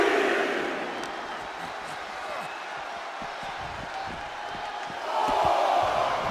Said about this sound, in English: This fight is spilling out into the crowd